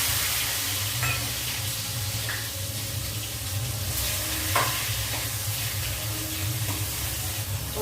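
Finely chopped tomatoes and a green chili fry in a pan with roasted cumin, giving a loud, steady sizzle with occasional stirring scrapes and clinks.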